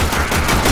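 Burst of rapid automatic gunfire in the video game Warframe, a dense fusillade of shots packed into under a second, loud and close with no voices over it.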